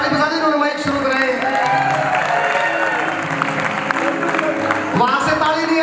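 An audience applauds for a performer at a live folk music event, clapping steadily throughout while a voice talks over it.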